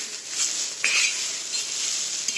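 Steady hiss of colocasia rolls roasting in a pan, with a brief clink of a utensil partway through, no voices.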